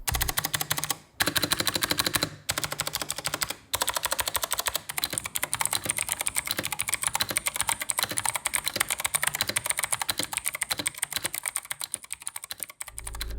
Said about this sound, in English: And we all know that leads to a pretty bad sounding keyboard.